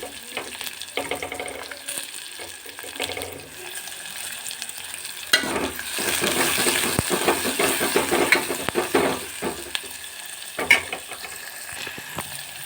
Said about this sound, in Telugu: ఇలా ఎర్రగా అయ్యాక ఆనియన్ అయితే వేసేసుకోవాలి. చిన్నగా కట్ చేసి పెట్టుకున్న ఆనియన్స్.